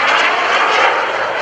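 An FLS Microjet performs at the 2015 Greenwood Lake Airshow, its jet engine a loud, steady broadband roar throughout, close and sustained as it flies past.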